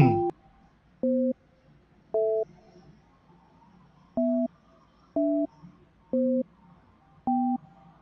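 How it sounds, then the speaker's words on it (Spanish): Repeated two-tone telephone beeps sound while a cell phone is being dialed, seven short evenly spaced pulses about one per second, clear and alone with no voices. "Ahí estamos ya marcando su celular."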